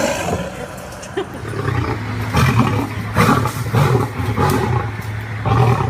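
Deep, drawn-out lion roars rising and falling in several loud bursts, close and resonant, with rumbling low tones.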